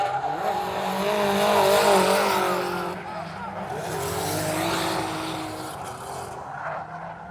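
A drift car at a drift league round runs hard with loud, sustained tire squeal and engine roar, swelling near then easing as it moves off, while people talk over it.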